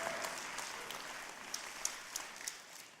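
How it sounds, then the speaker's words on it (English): A church congregation claps in a faint, distant wash of applause, with a few sharper individual claps standing out near the end. "Now, you can clap about that."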